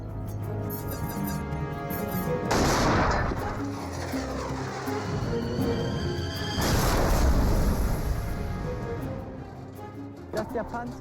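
A WWII Panther tank on the Western Front fires its long 5.5-meter-barrel main gun: two heavy broadband blasts a few seconds apart, each with a long rumbling decay, under a continuous voice.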